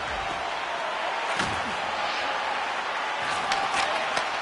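A hockey arena crowd in the NHL 26 video game cheers and applauds after a hard-fought game, a constant loud roar with scattered sharp claps and a thud rising out of the din.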